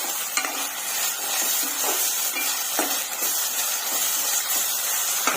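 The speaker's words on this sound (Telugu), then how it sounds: "ఈ అల్లం వెల్లుల్లి పేస్ట్ పచ్చివాసన పోయేంత వరకు ఫ్రై చేసుకుందామండి" Ginger garlic paste fries in a pan with a continuous hissing sizzle. A spatula stirs it in repeated short scraping strokes, and no one talks.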